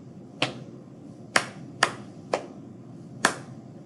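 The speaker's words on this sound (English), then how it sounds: "We have tap, clap, clap, tap, clap." Five sharp body-percussion hits in a tap, clap, clap, tap, clap rhythm, performed solo during a music lesson, crisp and close with a quiet pause between each one.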